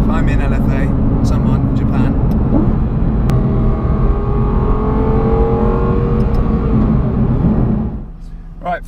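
Lexus LFA V10 engine driven flat out from inside the car, a loud sustained rising howl through the gears with shifts, easing off near the end, with a voice talking over it.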